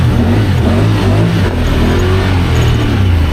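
Honda Pioneer 1000 side-by-side with a 27.5% low gear reduction, its engine loud and close as the throttle is worked, pitch wavering up and down through a steady revving drone in mud.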